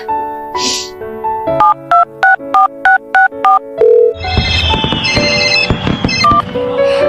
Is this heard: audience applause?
no